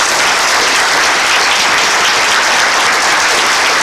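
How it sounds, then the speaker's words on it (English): A large conference audience claps for a keynote honoree, a loud, dense and steady wall of applause that fills the whole stretch without letup. "So stand up and clap for George Fraser."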